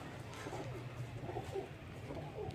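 Pigeons coo softly on a rooftop, low murmuring calls repeating faintly over a steady outdoor background hum with light ambient noise.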